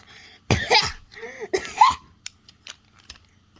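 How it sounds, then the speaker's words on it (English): A nasty cough rings out in two sharp, close bursts, followed by a few fainter throaty catches and clicks. "Why do you have a nasty cough?"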